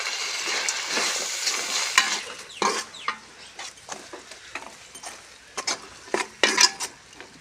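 Tomatoes sauté for an outdoor backyard mutton biryani, a loud frying hiss at first that thins into scattered crackles and stirring scrapes, with a few clucks from nearby chickens.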